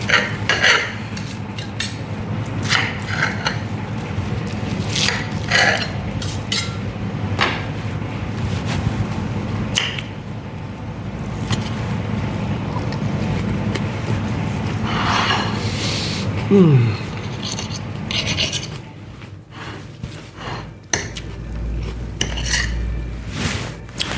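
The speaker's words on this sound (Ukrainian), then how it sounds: "беремо вилочку, беремо наш омлет, беремо наш ніж, просто всю цю штучку зріжемо" Fork and knife clink and scrape on a plate while cutting a bacon and cheddar omelet, a run of close, sharp metallic taps and scrapes over steady low background noise.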